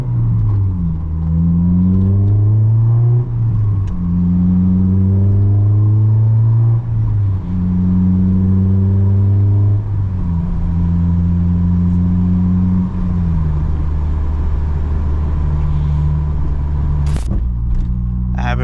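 A car accelerating hard through several gears, its engine note climbing and dropping back at each shift, loud and close from inside the cabin, then settling into steady cruising with a brief sharp click near the end.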